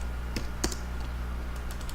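Typing a command into CAD software on a computer keyboard: several crisp, close key clicks in an irregular burst over a low steady background hum, with no speech.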